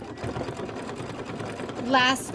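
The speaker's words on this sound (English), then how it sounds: "it's going to do the decorative stitching around that" Embroidery sewing machine stitching a decorative border on a table topper, a steady close mechanical whir with rapid needle rhythm, a voice speaking over it.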